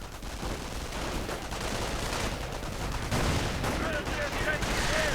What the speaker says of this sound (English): Just firing the Stug into the darkness, hoping to hit something.